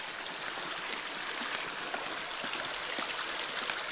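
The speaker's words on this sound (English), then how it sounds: "this super fresh, just babbling brook rolling right through the middle of Jerry's property" A babbling brook fed by a mountain spring runs through a permaculture farm in northern New Mexico, giving a steady, even rush of flowing water at moderate distance with no voices.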